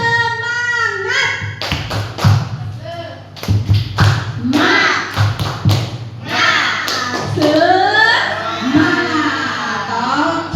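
A group of people doing the Indonesian 'tepuk semangat' rhythmic clapping cheer during a teacher training session, with crisp claps in a quick patterned beat as voices chant along.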